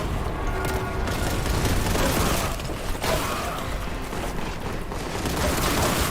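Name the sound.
grenade explosion and gunfire in a video game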